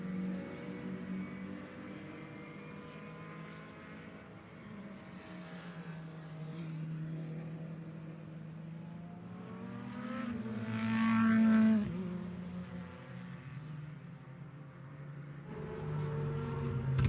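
The leading touring car in a DRM Revival race at the Red Bull Ring passes by, its engine note building to a louder, rising howl near the middle and then easing as it pulls away, heard from a moderate distance.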